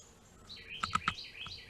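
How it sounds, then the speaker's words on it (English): Songbirds at a feeder, a black-capped chickadee and a tufted titmouse, give a few quick, bright chirps in a short cluster, moderately close against a quiet outdoor background. "So there was the black-capped chickadee, and here is a tufted titmouse."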